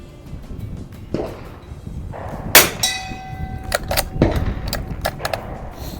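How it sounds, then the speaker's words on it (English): Rifle bullets strike a steel gong target outdoors. Several sharp metallic clangs ring out, each one followed by a sustained, bell-like tone. There is no talking. "Love to shoot this gong too."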